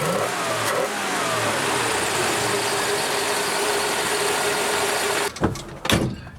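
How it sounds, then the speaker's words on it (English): A Plymouth Valiant engine runs steadily after a valve adjustment tune-up, a loud, close, continuous mechanical drone that ends in a couple of sharp knocks. "Once the engine was buttoned up again, I fired it up, and I was pleasantly surprised with the great throttle response."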